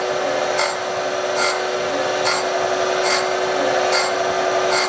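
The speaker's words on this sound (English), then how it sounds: "Radiac 60 grit VOS, very open structure. So it's nice for tool steel, grinds real cool." A Radiac 60 grit very open structure grinding wheel works tool steel, a steady whirring hum broken by regular rhythmic bursts of hissing contact roughly every second, close and fairly loud.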